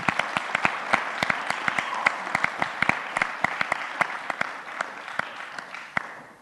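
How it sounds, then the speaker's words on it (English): Audience applause for a mayoral candidate at a city candidate forum, a steady patter of many hands with some crisp nearby claps, thinning slightly toward the end. "If we could give Chris a round of applause,"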